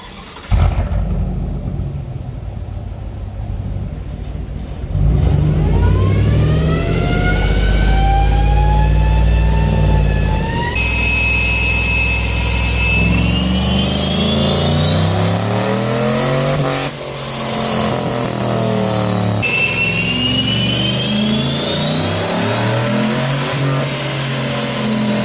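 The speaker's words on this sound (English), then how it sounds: "we're going to put the truck on the dyno and see what we do" Stock 2019 Chevrolet Silverado on a dyno, its engine climbing hard through the gears in several long rising pulls with shifts between them, loud and close, before winding back down.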